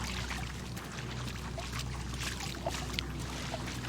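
A character wades through dirty water in Sherlock Holmes: The Devil's Daughter, with steady, soft sloshing and trickling that runs throughout at low level and no voices.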